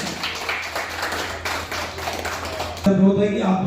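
A crowd at a literary gathering gives a dense round of handclaps for about three seconds. The clapping then cuts off abruptly and gives way to a sustained tonal sound.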